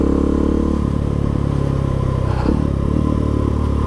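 A KTM 690 SMCR single-cylinder motorcycle pulls hard through the gears, with a loud, close engine drone that dips briefly at shifts and then rises again.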